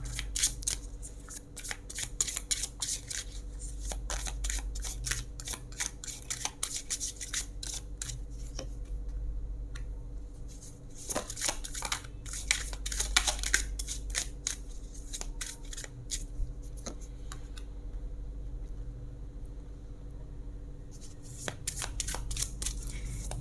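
Tarot cards shuffled by hand in repeated riffling bursts with brief pauses between, close and crisp, with a faint steady hum underneath and no talking.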